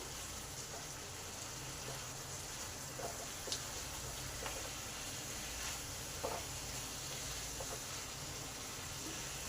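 Potatoes and spiny gourd (kakrol) sizzle steadily in a pan with spices while being stirred, a continuous close frying hiss broken by a few soft scraping strokes, with no talking.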